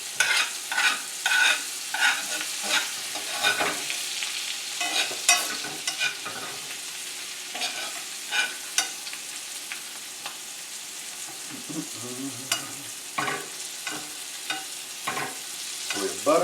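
Beef tenderloin sears in butter with garlic and fresh thyme, a steady sizzling hiss broken by frequent scraping and spoon clinks as the hot fat is basted over the meat.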